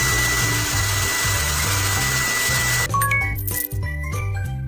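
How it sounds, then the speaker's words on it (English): A steady electronic blowing hum of a hair dryer in a pony hair salon game runs throughout, joined midway by bright chiming jingles and tinkly effects. "Now let's use a hair dryer."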